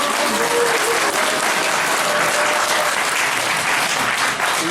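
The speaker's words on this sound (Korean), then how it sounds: "여러분 큰 박수로 환영해 주시기 바랍니다." Loud, dense applause from an audience at a forum in the Korea Press Center, welcoming a speaker to the stage, continuing evenly for several seconds.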